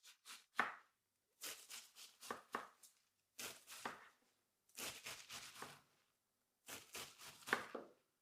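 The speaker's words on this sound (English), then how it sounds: "now I cut the leaves into thin strips" A knife slices regular cabbage leaves into thin strips, with crisp crunchy strokes coming in quick clusters of three or four and short pauses between them. Close and clear with no talk.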